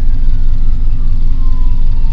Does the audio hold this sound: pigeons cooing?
no